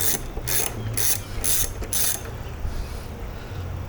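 A hand ratchet clicks in five quick, even bursts while loosening the 8mm bolts that hold the coolant reservoir on a Ford Transit 150, close and crisp, then a quieter mechanical hum follows.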